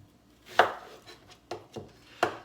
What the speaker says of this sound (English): chop up an onion